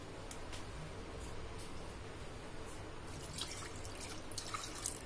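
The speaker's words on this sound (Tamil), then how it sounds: "கால் கப்பு இல்லை அரை கப்பு தண்ணி ஊற்றுங்க." Water is poured into a burnt Paleo magic pot with Vim dish soap for cleaning, making a soft, steady splashing and dripping trickle with a few brighter drips, fairly quiet and without talk.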